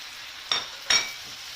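Tomatoes stirred into a pan of frying meat and peppers for saç kavurma, making two short scraping, sizzling bursts against a quiet background.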